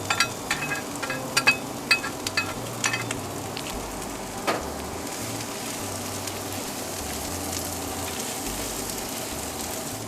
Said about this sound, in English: Saute these onions before we mix them into the meatloaf